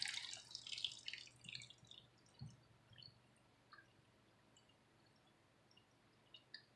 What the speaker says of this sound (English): Then I'm going to be adding